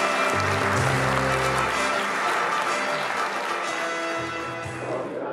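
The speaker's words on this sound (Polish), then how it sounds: "duża brawa." Applause at a motorsport awards gala fills the room, dense and steady under music, with a bell-like ringing tone running through it for about five seconds.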